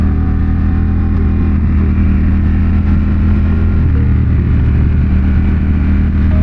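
A new motorcycle's engine runs loud and close, a steady low rumble with slight revving as the rider prepares to set off, with no talking.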